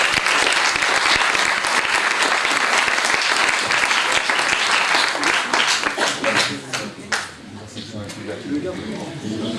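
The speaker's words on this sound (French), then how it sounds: "On peut les applaudir" Hall audience applauds at a ceremony honouring deserving local sportspeople in Saint-Sever: strong sustained clapping for about six seconds, then thinning to scattered claps as a voice starts speaking.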